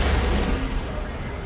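Lascannon shot in the video game Dawn of War 2, a loud, dense blast with a broad rumbling roar that fades slowly over a second and a half amid battle noise.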